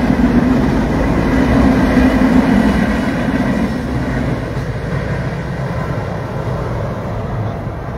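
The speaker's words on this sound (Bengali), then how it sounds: "ট্রেন যাচ্ছে, ট্রেন।" A train rolls past near a riverside fishing spot, a loud steady rumble with broad hiss that holds for the whole stretch and eases slightly toward the end, with no voices.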